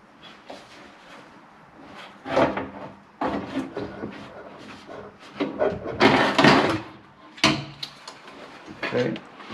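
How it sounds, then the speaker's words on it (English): A furnace blower motor slides out of its metal housing, giving a series of scraping, knocking handling bursts at close range, with no talk over them. "I've removed all the screws that hold the motor in place, and now I'm going to simply slide it out."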